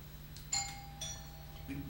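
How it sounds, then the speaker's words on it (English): A soft electronic doorbell chime rings a few tones, fairly faint and distant against a quiet background hum. "the doorbell? That's new."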